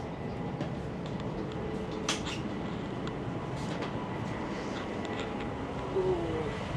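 A steady, moderately quiet rumble and rush fills the cabin of a high-speed bullet train running from Guangzhou to Shanghai, with occasional faint clicks and knocks and no talking.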